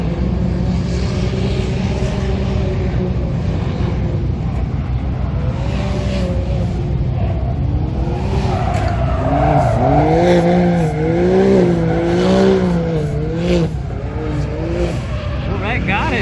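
Race cars including a C8 Corvette running side by side at Lanier Speedway, engine notes rising and falling steadily as they pass, heard under continuous commentary and crowd talk.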